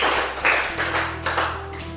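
A group of teachers in a classroom claps in unison in a counted pattern, four distinct clap bursts at a steady pace, close and clear over a faint background hum.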